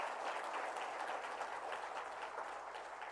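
Sustained applause from an audience in a hall during a government event in Jharkhand, a continuous, even wash of many hands clapping with no break and no talk.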